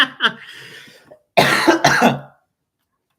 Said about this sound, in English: You still have that cough, poor thing.